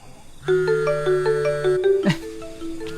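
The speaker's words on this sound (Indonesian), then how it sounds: "HP siapa tuh bunyi?" A mobile phone ringtone plays indoors: a bright, repeating electronic melody of short tonal notes, fairly loud and close, with a brief rustle near the end and no talk over it.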